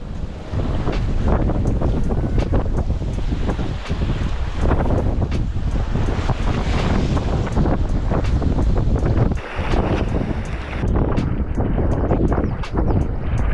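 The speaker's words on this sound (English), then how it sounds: "it gets really windy right here on this point" Strong wind roars steadily across the microphone on a fishing point by the sea in Japan, a dense buffeting rush with gusts and surf blended underneath, no voices.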